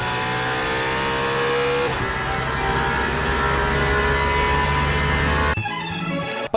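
Loud race car engine in Le Mans Ultimate, a sustained high-pitched whine with rich harmonic drone that holds steady, shifts abruptly partway through, then changes pitch sharply near the end as if gearing changes.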